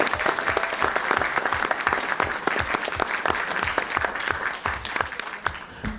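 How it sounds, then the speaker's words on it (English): Audience applause fills a city council candidate debate hall, sustained dense clapping for the event's host, steady and fairly close for about six seconds. "let's give a round of applause to doTERRA for hosting us tonight"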